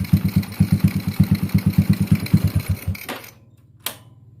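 A Honda Revo motorcycle's electric starter cranks with a rapid, loud, rhythmic chugging that stops abruptly, followed by a low idle and a single sharp click.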